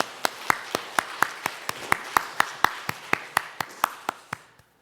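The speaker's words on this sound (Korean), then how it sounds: "선하신 하나님께 영광의 박수 올려드립니다." A church congregation at a Sunday service clapping together in a slow, steady unison beat, about three claps a second, fairly close and crisp, ending abruptly into quiet.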